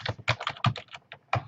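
Rapid keystrokes on a computer keyboard as a password is entered, a close, clicky burst of irregular taps with short pauses, no voices.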